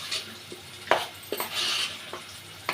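Chopped tomatoes being stirred into onions frying in a pan for a homemade chicken curry, with a faint sizzle under scattered spoon scrapes and knocks against the pan.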